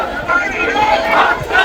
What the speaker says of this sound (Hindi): बट भीड़ बहुत है यहाँ पे।